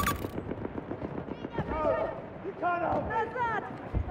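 Gunfire in a hardcore Battlefield 2042 match on Valparaiso pops in quick, scattered shots beneath excited voices of players talking over one another throughout.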